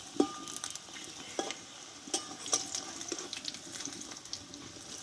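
Potato and flour snack frying in oil and being flipped in the pan: a faint, steady sizzle with a few soft clinks and scrapes, heard alone and fairly quietly.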